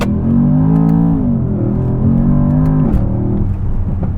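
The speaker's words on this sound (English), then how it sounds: "it does have an amazing exhaust note" Mercedes-AMG S63 Coupe engine revving, its deep exhaust note rising and falling in loud, close sweeps over a rumbling idle, with no talk.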